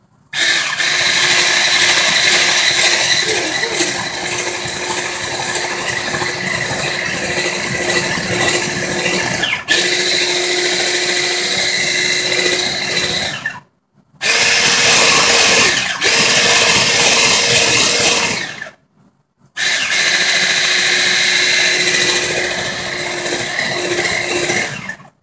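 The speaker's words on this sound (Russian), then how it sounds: "И турбомиксер." A handheld turbo mixer whirs loudly, beating cake batter in three long continuous runs separated by brief silences, its steady motor whine close to the listener.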